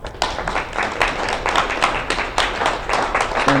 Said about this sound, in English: Let's give Khalil a round of applause